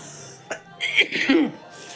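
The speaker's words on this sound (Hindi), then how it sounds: "मैं बहुत जितने बोलती हूँ ना उतने मुझे खांसी बढ़ने लगती है" A couple of short, harsh coughs from a nearby person, brief and close, with some throaty vocal sound.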